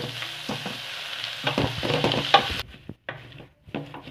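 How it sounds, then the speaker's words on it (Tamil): Onions and spinach greens being stir-fried in a pan, a close crackling sizzle broken by scraping stirring strokes, then dropping away into intermittent stirring sounds near the end, with no talk. "வெங்காயம் கீரெல்லாம் நல்லா அது மாதிரி பிரட்டி விடுங்க."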